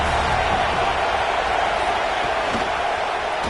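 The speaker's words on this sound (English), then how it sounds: "This crowd bringing the energy and noise early." A football stadium crowd at an NC State vs Georgia Tech game roars loudly, forming a dense, continuous wall of cheering and noise that holds steady throughout.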